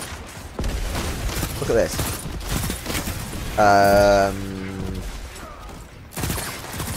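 A Trials hand cannon fires in Destiny 2, with a few heavy shots and a sustained tonal weapon burst in the middle, under someone talking.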